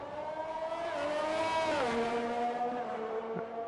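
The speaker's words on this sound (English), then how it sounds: "We can get some car noise in now." Formula 1 cars in a racing video game, a high-pitched engine wail held steady and then dropping sharply as the revs fall, loud and continuous, with no voices.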